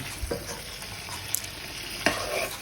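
Shing fish are sautéed in spice masala in a pan, with close, busy sizzling and sharp scrapes and taps of a stirring spoon over a few seconds.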